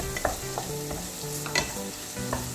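Sliced tomato and two green chilies are stirred into a sizzling egg roast masala in a pan, with a few scraping stirs over a soft, continuous fry.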